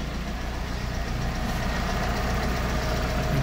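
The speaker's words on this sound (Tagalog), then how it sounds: "Medyo tumahimik na nga talaga siya. Wala na yung lagitik na malakas." A Toyota Corolla small-body engine idles steadily after an oil enhancer treatment, a continuous close, low rumble with a faint, even ticking and no talk.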